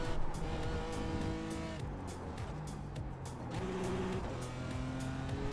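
A Ferrari race car in the iRacing sim, its engine droning and revving up through gears, then dropping on shifts. The tone is steady and fairly loud, with faint tire noise underneath.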